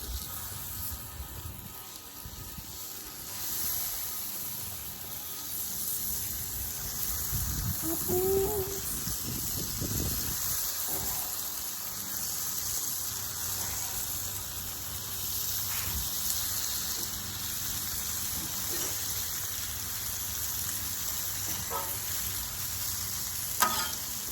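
Bacon strips sizzling on a new outdoor grill, a steady loud crackling hiss throughout with a few scraping and handling noises partway through, no talking.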